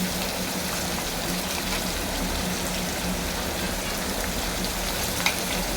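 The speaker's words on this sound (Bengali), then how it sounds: "এবার এতে দিয়ে দেবো আমি মশলা সেটা হলো জিরে সর্ষে শুকনো লঙ্কা টমেটো" Cumin, mustard seeds, dried chillies and tomato sizzling in hot oil, a steady, dense crackling hiss that carries evenly throughout with one small pop near the end.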